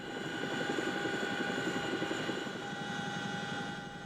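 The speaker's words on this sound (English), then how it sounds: "The helicopters take off from this lonely valley and fly southeast." Helicopters lifting off from a remote valley and flying away, carrying an ichthyosaur excavation crew, give a steady, loud rotor and engine drone that holds for several seconds and eases slightly near the end.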